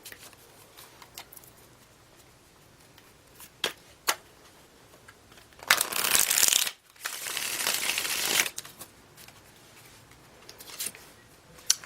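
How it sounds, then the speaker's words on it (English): Tarot cards shuffled by hand in a quiet room: a loud riffling burst of about three seconds, a brief pause, then a second flurry of papery slapping, with light card taps before and after. "One more shuffle."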